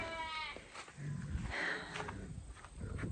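Sheep bleat at a farm where fall and spring lambing groups are kept, a few close, wavering calls mixed with livestock shuffling and footsteps.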